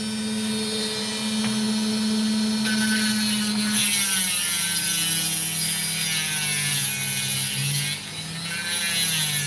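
An opal stone is cut right across on a lapidary saw, giving a continuous loud whining, grinding drone with shifting pitch that holds steady, dipping briefly near the end.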